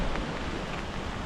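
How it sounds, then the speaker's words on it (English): Steady rain falling outdoors in Horrabridge makes a continuous, even hiss, close and moderately loud with no other sounds. "when it's raining like this"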